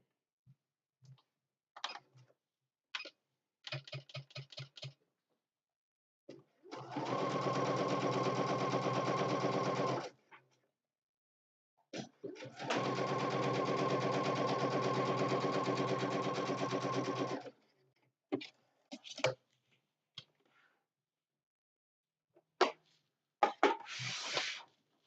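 Sewing machine top stitching a fabric notebook cover: two sustained, steady whirring runs of stitching, each several seconds long, separated and bracketed by quiet clicks and handling taps from adjusting the work, with no talking.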